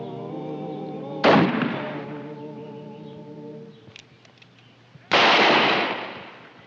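Two loud gunshots from a shotgun and a pistol ring out about four seconds apart in an Old West shootout, each a sharp blast with a decaying tail over a sustained musical score.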